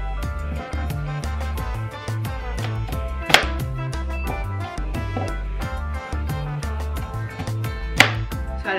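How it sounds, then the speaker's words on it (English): Potatoes being cut on a cutting board with a knife make a busy run of close, rhythmic chopping taps, with a couple of sharper knocks standing out over a dense background of music. "I'm actually gonna cut these potatoes up first because I wanna get those in the oven first"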